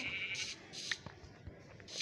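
Sheep bleat in a crafting and building video game, three short nasal bleats spread evenly across the stretch, fairly soft, with faint clicks between them.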